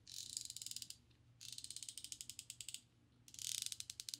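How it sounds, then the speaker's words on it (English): A PB Swiss Insider Pro screwdriver bit holder ratchets in three bursts of quick, even clicking, crisp and close in a quiet room, with brief pauses as the direction changes. "Their ratcheting mechanism is nice."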